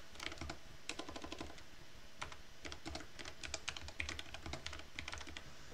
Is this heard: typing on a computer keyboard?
yes